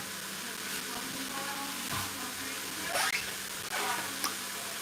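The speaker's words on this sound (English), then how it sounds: "we're literally just sweating the veg. We're giving it a nice saute." Vegetables sweat and sauté in a pan for yellow split pea soup, a steady low sizzle with a few brief scraping stirs, close and fairly quiet, no voices.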